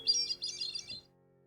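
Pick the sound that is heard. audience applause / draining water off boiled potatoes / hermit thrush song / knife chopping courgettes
hermit thrush song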